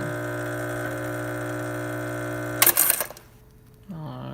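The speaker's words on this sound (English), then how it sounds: "as you can see, it is pumping" A Quick Mill Silvano espresso machine's pump hums in a steady, loud vibrating drone, then a short burst of hissing sputter and a clunk as it cuts off, with a quieter tone resuming at the end.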